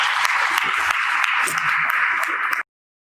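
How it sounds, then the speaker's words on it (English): An audience at a wealth-building masterclass claps steadily, a dense continuous patter held at even loudness for about two and a half seconds before cutting off abruptly into silence. "Clap it up for that."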